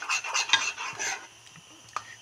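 A spoon scraping and clinking as it stirs thickening vanilla pudding in a pot while it comes to a boil, a quick run of close metallic strokes that trails off into a few lighter taps.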